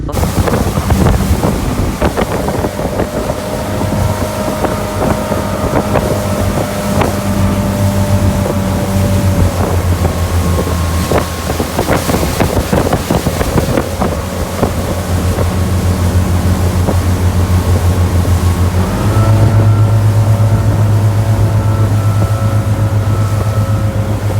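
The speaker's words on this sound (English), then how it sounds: "Then Sunday we went out on a boat on the Missouri River" A motorboat towing a tube on the Missouri River, its engine droning steadily and loudly throughout, with a slight pitch rise near the end, under heavy wind buffeting and water splash.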